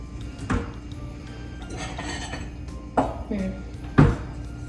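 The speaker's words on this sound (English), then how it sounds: "I am pulling out my bowls for prep" Small bowls pulled out and set down in a home kitchen while cooking dinner, with a few sharp ceramic clunks and clinks spaced apart over soft background rustle, close and fairly loud.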